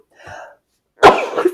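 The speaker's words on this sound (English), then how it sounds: "I'm going to sneeze." A short breathy intake, a brief pause, then one sharp explosive burst, a single close sneeze.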